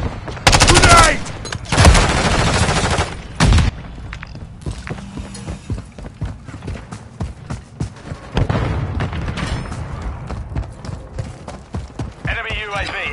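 Dense Call of Duty MW3 gunfire bursts and grenade blasts, loud and close, with heavy broadband explosions early on, then scattered rapid shots and impacts continuing throughout, with in-game voices calling out between them.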